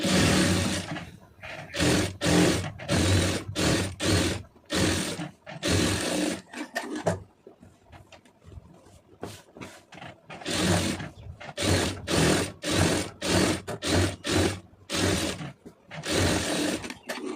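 A sewing machine stitches around a cotton blouse lining in loud, rapid bursts of mechanical whirring, pausing briefly between runs while the fabric is repositioned by hand, close up and without speech.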